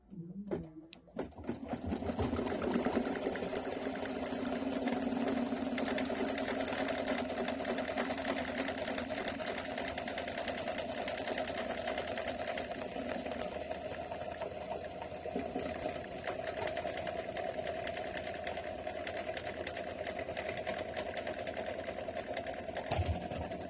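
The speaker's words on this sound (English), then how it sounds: "we're going to put the lining right side down and stitch that one. This is the tack down." Embroidery machine stitching a lining tack-down on a KimberBell belt bag in the hoop, a steady, loud, continuous mechanical whir that runs unbroken from start to finish.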